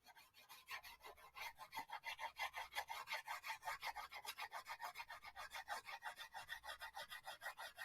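A crayon is rubbed lightly over paper in quick, regular back-and-forth strokes, making a faint, steady scratchy rasp throughout.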